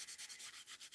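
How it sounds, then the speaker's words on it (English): Tissue rubbed over heat embossing powder on stamped cardstock, a soft, close, rhythmic scrubbing in about eight quick strokes under a second, faint and alone. "my attempt now to give my embossing powder a bit of a shine is just to go over with the tissue"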